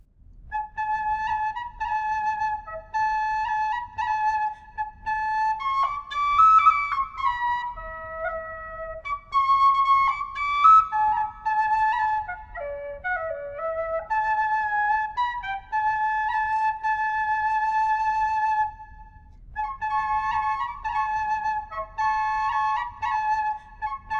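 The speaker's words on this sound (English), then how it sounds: "I'm gonna play that on my Chris Wall low G with some accompaniment." Two tin whistles, one a low G, play the Scottish tune Bonnie Lass of Fyvie as a duet. Clear, sustained melodic notes ring out steadily, close and alone.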